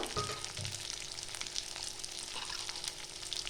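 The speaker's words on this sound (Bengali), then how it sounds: "আদাটা একটু আমি ভেজে নেব। দিচ্ছি 4-5টা কাঁচা লঙ্কা," Ginger and four or five green chillies fry in hot oil, giving a steady, fairly close crackling sizzle that holds evenly throughout with no voices.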